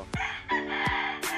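A young gamefowl stag crows close by, a short, strained, harmonic call that rises and falls in quick pulses and is cut off within about a second and a half, with no talk over it.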